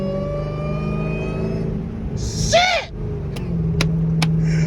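A Dodge Durango Hellcat engine, running with no hood, hums steadily with rising harmonic tones as it revs, along with a brief warbling sweep and a few sharp clicks, and a man swears briefly.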